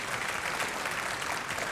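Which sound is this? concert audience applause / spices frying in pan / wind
concert audience applause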